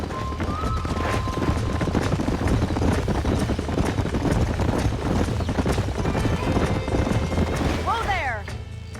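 Horses in the video game Red Dead Redemption clop along in a brisk, steady rhythm, with a whinny near the end, under music and game sounds.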